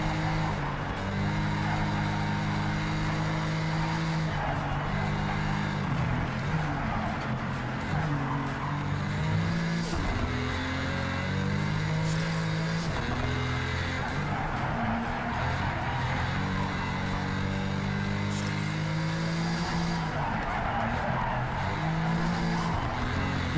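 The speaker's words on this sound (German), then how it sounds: "Das klingt für einen modernen Boxermotor doch relativ glaubwürdig." Modern boxer engine of a car in the Project Cars 3 racing game, a steady loud engine drone with shifting pitch throughout, plus brief tire squeal as the car drifts through a corner.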